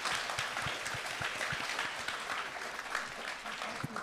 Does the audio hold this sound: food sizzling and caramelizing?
no